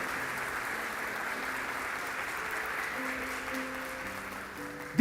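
A church congregation claps in steady, dense applause through the evening service, with sustained keyboard or organ notes ringing faintly underneath; the clapping holds an even level throughout.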